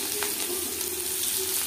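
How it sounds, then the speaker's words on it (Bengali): Chopped onions frying with bay leaf in a pan of oil for egg curry, a steady close sizzle with faint crackles running alone throughout. "পেঁয়াজগুলো ভালো করে ভেজে নেব।"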